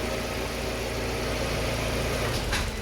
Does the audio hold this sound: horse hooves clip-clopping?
no